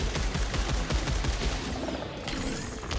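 Dense rapid gunfire in the video game Returnal, a loud continuous volley of overlapping shots with no pause across three seconds.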